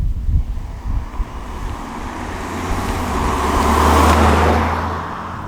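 An Audi A4 35 TFSI with a 150 horsepower engine driving on a road, a steady low engine hum and tyre roar with some wind, rising a little toward the end.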